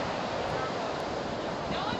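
Surf rolls steadily onto a cold beach while wind buffets the microphone, a dense unbroken roar with no clear break between waves.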